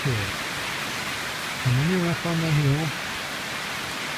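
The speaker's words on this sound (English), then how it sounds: "See, the heavy rain is a fact of life here." Heavy rain falls steadily in a broad even hiss that fills the whole stretch, while someone talks briefly over it partway through.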